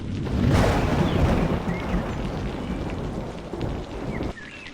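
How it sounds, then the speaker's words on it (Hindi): Heavy rain pours steadily, a dense continuous hiss with a low rumbling underlayer, loud and close throughout. "ये बारिश रुकने का नाम ही नहीं ले रही है"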